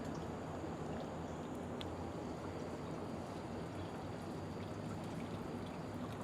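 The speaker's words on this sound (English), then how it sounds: "Beautiful water trickling." Spring water trickles from rock beside a path near the Grand Promenade in Hot Springs, Arkansas, a steady soft wash of running water at moderate distance with faint outdoor ambience.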